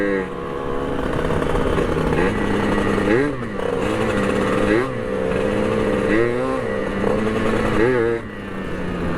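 A Kawasaki Ninja motorcycle idles loudly close by on a hot group morning ride, its engine note rising and falling in a few short revs over a steady rumble.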